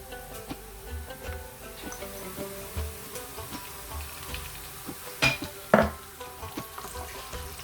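Fenugreek, nigella and fennel seeds crackle and fry with browned onions in hot oil, a soft continuous sizzle broken by a few sharper pops and ticks, with occasional clinks of a utensil against the pan.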